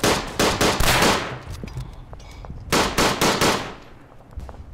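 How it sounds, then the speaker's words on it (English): A light machine gun firing in Verdun, the World War I shooter: loud, close bursts of rapid shots, one long burst at the start and another after a short pause, with quieter distant fire between. "I've got a very loud LMG. I can't even hear myself think."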